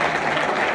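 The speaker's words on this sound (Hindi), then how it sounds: "मैं जरूर चाहता हूं हमारे डायरेक्टर्स के लिए इस पॉइंट के लिए तालियां बजनी चाहिए।" An audience at a business plan launch event claps in a brief, dense burst of steady applause.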